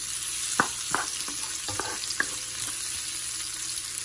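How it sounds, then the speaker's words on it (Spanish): Diced garlic and serrano chile sauté in a pan for a fava bean soup with shrimp, giving a steady frying hiss broken by a few sharp utensil clicks and scrapes. "el ajo, también picado en cuadritos, y el chile serrano. Bueno, vamos a sofreír muy bien esto"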